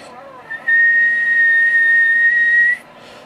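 One long, steady, high-pitched whistle is blown into a microphone at close range. It holds a single loud tone for about two seconds, preceded by a short breath, and ends abruptly.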